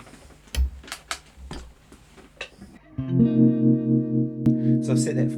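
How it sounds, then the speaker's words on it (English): A few soft knocks and a short voice give way to a sustained electric guitar chord that wobbles with a pulsing harmonic tremolo from a Fractal VP4 pedalboard. "So I've set that for harmonic tremolo."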